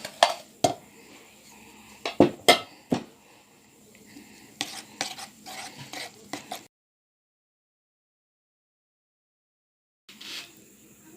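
A spoon stirs crushed biscuits in a bowl, making irregular clinks and scraping taps close up, with a silent gap before a last short burst of stirring.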